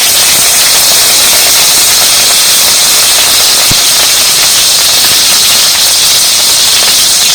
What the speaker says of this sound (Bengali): আর তেলের মধ্যে দিয়ে দেবো দুটো কাঁচা লঙ্কা কোচা।